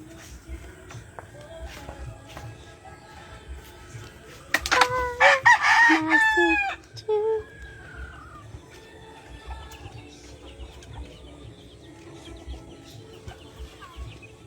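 Chickens and chicks in a Filipino yard, with a rooster crowing loudly and nearby midway through, clucks and peeps around it, low background noise and faint voices in between.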